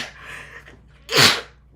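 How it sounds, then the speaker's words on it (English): A single sharp sneeze lands close and loud after a quiet breathy intake, a brief explosive burst with no speech around it. "Wow, sorry about my sneeze."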